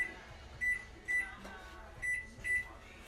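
Four short electronic beeps from an appliance keypad, spaced unevenly as buttons are pressed, close by in a quiet kitchen.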